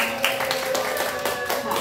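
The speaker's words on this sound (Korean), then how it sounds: "자 우리 하은이 친구를 위해서 박수 쳐드리겠습니다" Audience clapping for a child at a church infant-department worship service, a steady crowd applause sustained for the whole stretch with voices mixed in.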